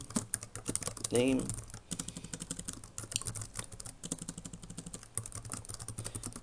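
Rapid clatter of a computer keyboard as someone types into a Twitter sign-up form, steady dense keystrokes close by with a brief voice near the start and short pauses.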